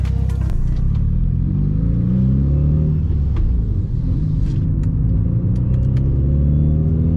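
A Mitsubishi Evo 8 on a dyno makes a loud, close full-throttle pull, its engine note rising steadily in pitch with a few sharp clicks and pops mixed in.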